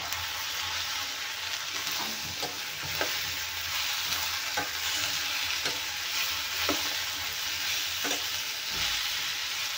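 Five tomatoes with a little turmeric cook in a pan for a tomato-onion chutney, giving a steady broadband frying sizzle with soft periodic stirring scrapes and no talking.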